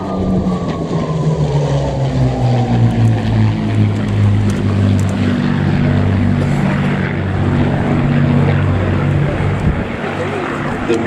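A Messerschmitt 109 fighter flying at the Duxford Flying Legends airshow: a loud, steady piston-engine drone with a slowly shifting pitch as the plane passes, continuous for the whole stretch.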